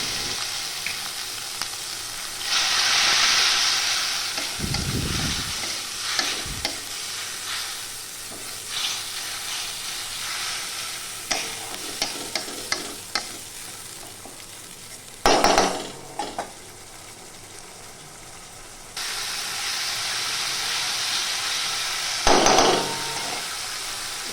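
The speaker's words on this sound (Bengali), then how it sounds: "ছোটো চামচের এক চামচ করে হলুদ গুঁড়ো লঙ্কার গুঁড়ো জিরে গুঁড়ো সামান্য একটু জল দিয়ে কষিয়ে দেবো ভালো করে" Turmeric, chili and cumin powders with a splash of water are fried and stirred in a pan, a sizzling hiss rising and falling with knocks and scrapes of the spoon, close by, with no voices.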